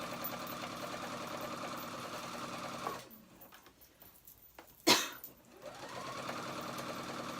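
A sewing machine runs stitching around the top of a skirt for a dress, a steady close whirring that stops midway, followed by a sharp clack and quiet handling before the motor hum resumes.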